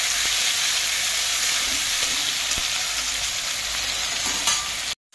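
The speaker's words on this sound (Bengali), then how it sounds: "এর মধ্যে দিয়ে দেব টমেটো দিয়ে আমি এটাকে করে নেব ভালো করে ফ্রাই" Tomatoes fry in a pan with a dried red chilli tempering for a vegetarian potato curry, giving a steady, close sizzle with occasional stirring clicks until it cuts off abruptly near the end.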